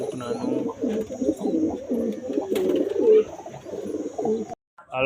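Pigeons cooing, several birds producing repeated soft throaty coos close by in a steady overlapping rhythm, ending abruptly with a brief pause and a faint sound.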